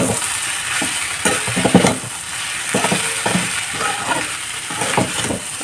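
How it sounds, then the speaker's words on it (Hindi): Chayote squash sabzi stirred in a pan, with a steady background sizzle of frying and repeated soft scraping strokes of a spoon against the pan, close and fairly loud, no talking. "इसको चलाते रहो अच्छे से ये पक जाए"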